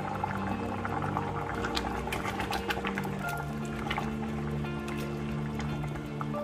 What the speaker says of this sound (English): That's the gravy cooking, and that's the beans too.